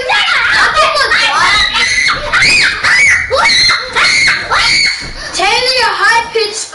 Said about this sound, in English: your high pitched screams are the worst